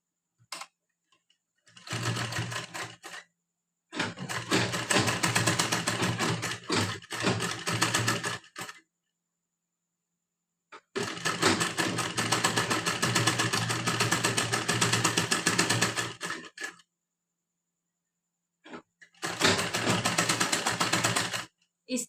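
A sewing machine stitches silver lace onto a net blouse in several long bursts of rapid, even mechanical whirring, separated by silent pauses.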